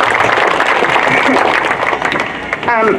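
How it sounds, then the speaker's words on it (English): A community audience at a FEMA and Small Business Administration rebuilding session claps in a short, loud burst of applause, with a voice starting to speak near the end. "let's give them a big round of, big clap"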